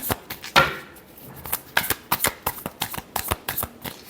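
Close, loud shuffling of tarot cards, with a rapid series of sharp riffling slaps and flicks in an uneven rhythm and no voices.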